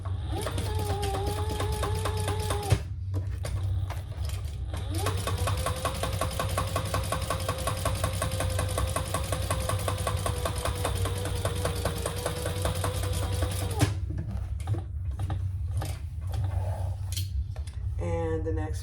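A sewing machine stitches rows of seams in a leather handbag, running steadily at close range for most of the stretch with brief pauses, while a person talks over it.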